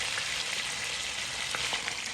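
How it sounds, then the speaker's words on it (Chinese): Pork ribs for sweet and sour spare ribs sizzle steadily in a pan as they brown on their second side, a dense, even frying hiss with a few faint clicks and no voices. "再翻过来煎5-6分钟左右，煎至2面金黄。"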